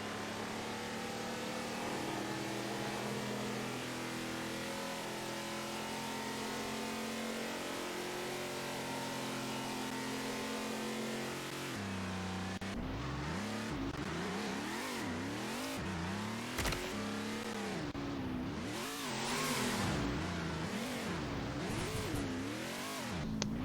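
A car drives in the Roblox Jailbreak video game, its engine revving and rising in pitch repeatedly in the second half, with tire noise, loud and close after a quieter steady game soundscape.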